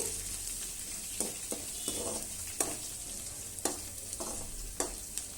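Crushed garlic fries over a medium-low gas flame, a soft and quiet sizzle with several sharp ticks and stirring scrapes spaced through it, and no voices.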